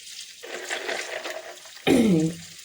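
Water is poured from a container onto ice, giving a short splashing trickle followed by a louder, fuller gush near the end, close up and with no talking.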